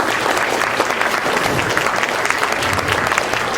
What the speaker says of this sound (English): Let's give a big round of applause for Pranita, please.